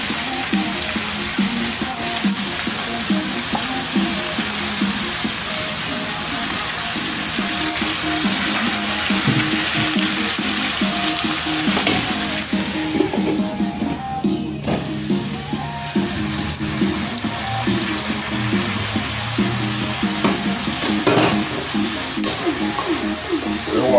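Turnips fry in a pan with a strip steak, a steady sizzle with occasional stirring scrapes, close, while someone talks over it.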